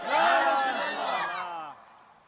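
Large crowd at a Bangladeshi religious gathering in Chandpur shouting a slogan back in unison after a Nara-e-Takbir call, one loud sustained collective cry that swells and then trails off.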